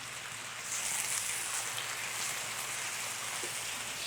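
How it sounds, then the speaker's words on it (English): Water drizzled into a hot pan of browning onions sizzles steadily, a close, loud broadband hiss that swells up after the first half-second and holds for several seconds with no talk. "And what I like to do is just add a little drizzle of water."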